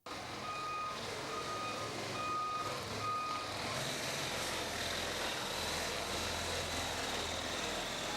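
Heavy-duty vehicles clearing rubble at a collapsed building site: a steady, loud engine rumble runs throughout, with repeated reversing beeps sounding through the first half.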